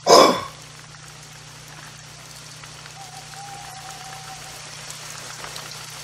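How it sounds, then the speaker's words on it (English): Rain falls outdoors at night during a hunt, a soft, steady hiss that lasts throughout after a brief loud burst at the start, with a faint low hum underneath. "Oh, here comes the rain."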